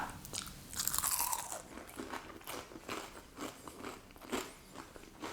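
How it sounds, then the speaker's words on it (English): Close, crisp bites and crunchy chewing of a cooked breakfast with hash browns, egg and tomato, a quick loud crunch followed by several quieter rhythmic chews with no talking. "That's lovely and crunchy."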